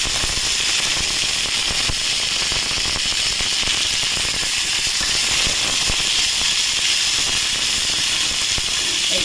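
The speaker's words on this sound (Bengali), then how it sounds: "একটু তেল দিলাম, সাদা তেল। এতে আমি সর্ষে কারি পাতাটা" Mustard seeds and curry leaves sizzle in hot white cooking oil, a continuous bright hiss with scattered sharp crackles and pops, close and steady with no talking.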